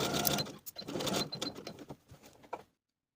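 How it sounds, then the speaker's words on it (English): A home sewing machine stitches darts on a Simplicity 1370 skirt, giving a brief, close, rapid whirring and clattering run that stops abruptly into silence. "take them to your machine and sew from the outside edge to the point"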